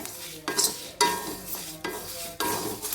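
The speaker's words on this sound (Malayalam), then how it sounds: "ഇവിടെ എന്താണ് കേട്ടോ പെയ്യ പൊട്ടി പൊട്ടി കേൾക്കുന്ന ശബ്ദം കേൾക്കാവോ നിങ്ങൾക്ക്" Rice grains dry-roasting in a pan for homemade vegetable masala powder, giving a close, steady crackle and light popping with repeated louder stirring scrapes about every half second, with no voices.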